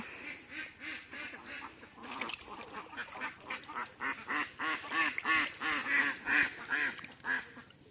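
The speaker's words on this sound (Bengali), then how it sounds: "এই যে হাঁস খাচ্ছে কত সুন্দরভাবে" Several ducks quack repeatedly and busily up close while eating snails in a pond, their calls overlapping in an irregular chorus, with soft splashing and dabbling underneath.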